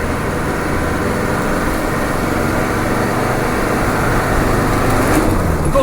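A Land Rover Defender 300Tdi diesel engine drones steadily from inside the vehicle on the move, a loud, even rumble with road noise and no let-up, fitted with a new power steering pump.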